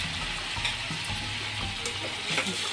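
Chopped tomatoes and curry leaves fry in a pan with a low, steady sizzle, soft bubbling and occasional light scrapes of a spoon stirring them.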